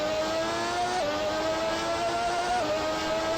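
Formula 1 car engine screaming at high revs down a straight in the racing game GP4, a loud continuous whine with brief dips at each upshift, close and steady throughout.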